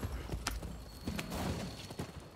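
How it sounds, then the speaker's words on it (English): Horse hooves clip-clopping in a steady rhythm over a low rumbling background, fairly close, in the video game Rise of the Ronin. "I guess I could call a horse if I wanted to."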